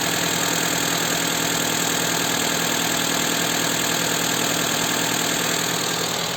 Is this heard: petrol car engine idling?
yes